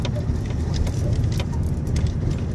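A car rolls over a bumpy cobbled brick street patched with asphalt, giving a steady, loud low rumble with rattling and jangling from inside the cabin throughout.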